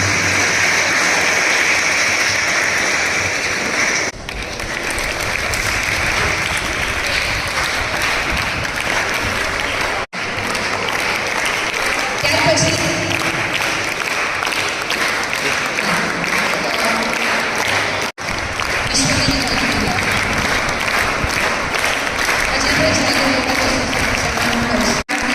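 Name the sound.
audience applauding students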